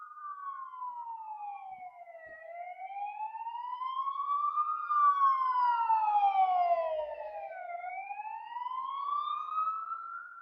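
An ambulance siren wails, sweeping slowly up and down in pitch, loud and steady throughout, with no talking.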